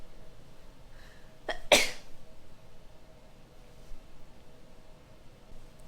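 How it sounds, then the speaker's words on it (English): One sharp, loud sneeze breaks a quiet room, with a short intake just before and faint breathy rustle afterward. "I have to sneeze."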